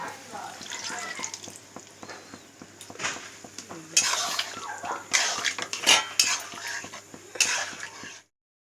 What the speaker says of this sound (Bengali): পনিরগুলোকে মিশিয়ে দিলাম।